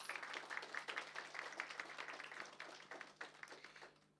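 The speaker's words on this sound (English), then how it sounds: "Let's give them a round of applause." Audience applause at a cultural performance evening featuring the Cultural Forces of Ukraine, a dense wash of many hands clapping with scattered sharper claps, steady and fairly faint throughout before thinning at the end.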